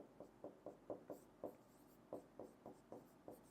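Pen writing on paper during a bank reconciliation accounting lesson, about a dozen short rhythmic scratchy strokes, close and fairly quiet, with no voice over them.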